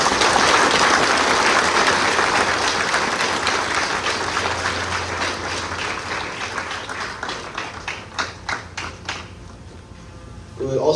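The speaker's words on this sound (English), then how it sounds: "Please give a round of applause for our guests." A 9/11 ceremony audience applauds its guests at a West High AFJROTC event, loud, dense clapping that gradually thins into scattered claps as a voice comes through toward the end.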